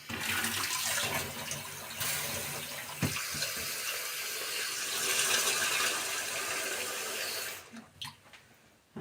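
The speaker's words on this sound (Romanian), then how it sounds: "Acum peste ei punem apă rece." Cold water pours steadily over cabbage in a cooking pot for about eight seconds, a broad splashing rush that stops abruptly near the end, with no talk over it.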